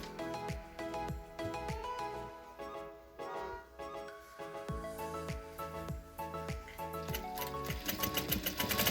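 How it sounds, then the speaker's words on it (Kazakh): A sewing machine stitches a seam in a run of rapid mechanical clatter, speeding up and slowing in bursts, close and clear with no talk. "Мынау тұрған кертікті енді біз төмен қарай тігіп шығамыз."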